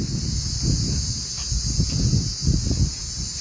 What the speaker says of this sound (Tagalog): naririnig nyo yung mga kuliglig, diba?